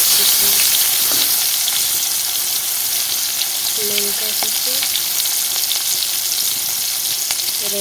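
Chopped onion and green chili frying in oil in a wok, a loud, steady, dense sizzle that carries on unbroken from start to finish, with no voices over it.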